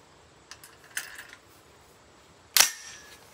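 A single 8.6 Blackout rifle shot firing a Barnes 225 grain TTSX bullet into a ballistic gel block, a sharp crack with a short ringing tail, preceded by a few faint clicks.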